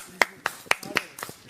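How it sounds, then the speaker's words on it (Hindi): A few people clap in scattered, separate slaps for a family on a reality TV show, about five or six distinct claps with small gaps between them, close by and sparse rather than a full ovation. "चलो भाई तालियां हो"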